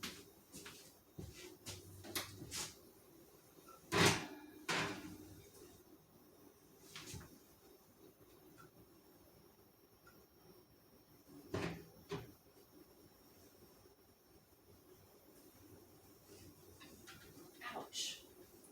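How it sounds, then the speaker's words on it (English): A kitchen oven door and metal rack are handled while a breakfast casserole is slid under the broiler on the top shelf. Scattered clanks and thumps come close and quiet, with a sharper rattle near the start. "So here we go, back in the oven, under the broiler on the very, very top shelf"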